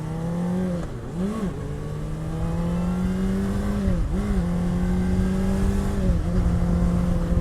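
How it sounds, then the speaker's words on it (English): Honda CBR600RR sport motorcycle from 2017 accelerating, its loud steady engine note rising in pitch through a gear, dipping at each of three shifts before climbing again, heard up close with no talk. "it takes getting used to accelerating on this bike"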